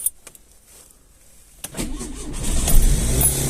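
A Lada 21081 engine, just back from repairs, cranks and catches after a quiet start, then settles into a rising, high-revving idle up close.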